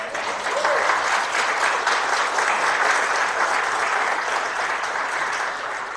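A church congregation claps together during a Sunday service, steady dense applause that holds at full strength throughout, with no voices over it.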